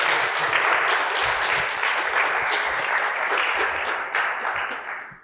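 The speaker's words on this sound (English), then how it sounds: "so give them a big applause to make it happen." A conference audience at a Mars habitat startup challenge gives sustained applause for the partners and sponsors, a thick, even wash of clapping that holds for about five seconds before fading out.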